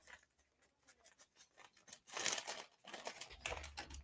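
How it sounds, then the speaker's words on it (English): Small bolt cutters snip near the edge of a toy part while a plastic bag crinkles and rustles close by, giving a few sharp clicks followed by louder crumpling in a quiet room. "So now we're going to take our small bolt cutters, our plastic bag."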